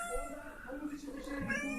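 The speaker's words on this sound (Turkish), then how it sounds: "Ev kedi kreşine döndü." Several cats and kittens at a home cat nursery meow together in overlapping, continuous cries, faint and somewhat distant, with a person talking softly over them.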